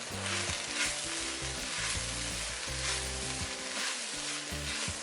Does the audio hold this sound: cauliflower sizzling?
yes